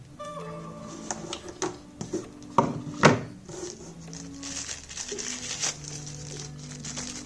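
A soft pouch for Boat Rockerz 330 Pro neckband earphones handled up close, giving quiet crinkling and rubbing with a few sharper clicks and rustles near the middle, no talking.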